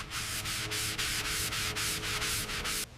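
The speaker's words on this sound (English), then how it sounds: "The primer looks flawless, ready for sand." Rhythmic sanding strokes rub over primer on a 1955 Mercedes 300SL Gullwing body, a steady close-up scratching that pulses in regular back-and-forth passes with no talking.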